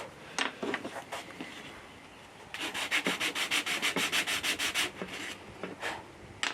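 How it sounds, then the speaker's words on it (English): Wood being sanded with a sanding block, scattered rough strokes then a quick run of rhythmic back-and-forth rubs, close and moderately loud. "So you sand it all. Okay, little sanding block."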